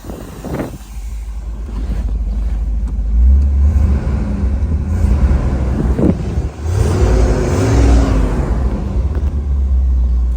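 A 1975 Chevrolet Corvette engine runs close by with a deep steady rumble and rises in several revs, some wind buffeting on the microphone throughout.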